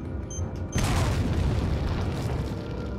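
A weapon blast in Resident Evil 4 erupts as a sudden heavy boom after a quiet start, followed by a dense, rumbling roar that lingers for several seconds.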